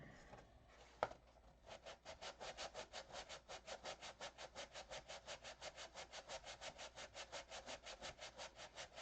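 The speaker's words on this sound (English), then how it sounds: "All this detail sanding" A sanding block is worked by hand over a wooden Tucker model, producing quick, regular back-and-forth rasping strokes, close and fairly soft, after a brief knock near the start.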